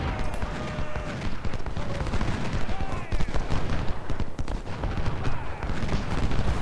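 Massed musket fire from skirmishers in the Civil War strategy game Ultimate General: Civil War, with dense crackling shots popping continuously and overlapping at close and middle distance, plus occasional heavier booms.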